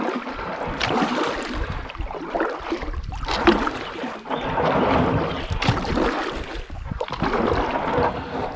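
A kayak scrapes and bumps over the shallow rocky riverbed of the Gunpowder River while being paddled, with uneven gritty scrapes, knocks and water splashes close by.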